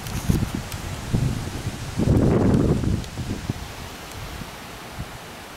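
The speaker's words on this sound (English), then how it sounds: "It is a little bit windy." Wind gusting through leaves during a severe thunderstorm in central New Jersey, a steady outdoor rustle that swells into a louder, fuller gust around the middle before easing back to a lower windy hiss.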